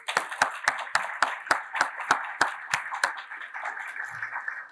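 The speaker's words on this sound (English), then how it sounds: "let's give a round of applause" Clapping comes from an audience at a conference on democratic backsliding, a run of sharp, evenly spaced claps that thins and fades over a few seconds.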